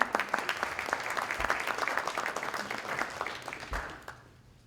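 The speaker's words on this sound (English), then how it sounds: "I would like to welcome you all with a big round of applause." A warm round of crowd applause welcoming attendees to a Ward 12 Edmonton city by-election candidates' debate, dense clapping at moderate level that thins out and fades away near the end.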